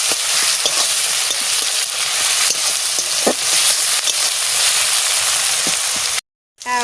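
Onion and tomato sizzle loudly in hot oil with a little salt while a spoon stirs and scrapes the pan in irregular knocks, close and continuous until an abrupt cut near the end.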